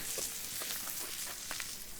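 Tri-tip meat sizzles while cooking, a steady, faint crackling hiss with small pops scattered throughout.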